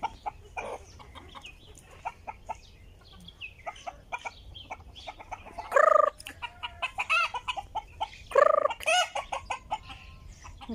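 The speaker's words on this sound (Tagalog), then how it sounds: "May manok din dito no. Sa Kuwait." Chickens and other fowl on Abdaly farm in Kuwait cluck in short repeated bursts, with a couple of louder, closer calls rising above the chatter of the flock.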